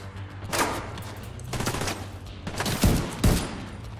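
Bursts of video game gunfire from The Division 2, several loud volleys of rapid shots spread across a few seconds, with sharper cracks near the end over a steady low background hum.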